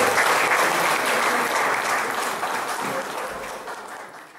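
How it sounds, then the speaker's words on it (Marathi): A hall audience at a workers' awards ceremony in Satara breaks into loud, dense applause that fades slowly over a few seconds, with a faint murmur of voices beneath it. "आमच्या नव्या कार्यकारिणीसाठी जोरदार टाळ्या वाजवूया"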